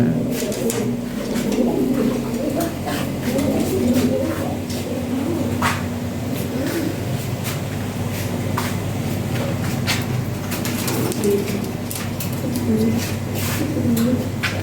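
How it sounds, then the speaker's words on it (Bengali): Several pigeons, including European Lahori pigeons, coo in low, repeated throaty calls amid a busy coop, with scattered sharp clicks and wing flutters, fairly close. "বেশ কিছু কবুতর আছে।"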